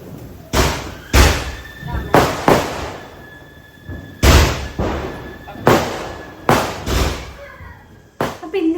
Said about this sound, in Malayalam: അപ്പം ഇന്നിപ്പോൾ രാവിലെ നമ്മൾ പടക്കമൊക്കെ പൊട്ടിച്ചു.